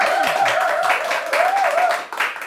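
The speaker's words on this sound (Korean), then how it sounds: "멋진 강의를 해주신 김준혁 교수님께 큰 박수 부탁드립니다." A lecture audience applauding Professor Kim Jun-hyuk at a Suwon humanities talk, a short stretch of dense clapping running under a voice that carries over it.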